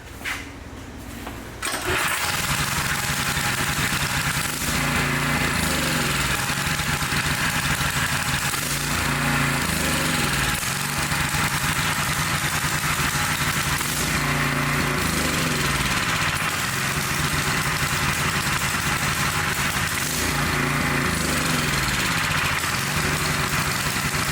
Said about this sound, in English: This fuel is bad, see? It will only run on choke.